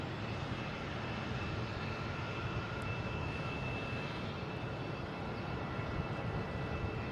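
Delta airliner at Boston Logan International Airport, a steady broadband engine roar holding at a constant level throughout, with a faint thin whine running above it.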